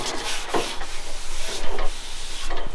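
Hand block sanding of painted truck bed bodywork with an acrylic block, in a crisscross pattern: repeated scratchy rubbing strokes, close and steady, with no talk.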